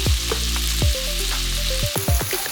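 Seasoned potatoes stir-fried in a pan over medium heat, a steady sizzle broken by several loud scraping stirs of a spatula against the pan, close up and without speech.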